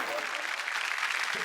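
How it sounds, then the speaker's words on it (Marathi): An audience at a television show's stage event claps in a brief, steady burst of applause, many hands patting evenly at moderate loudness with a few faint voices mixed in. "एकदा जोरदार टाळ्या होऊन जाऊ देत"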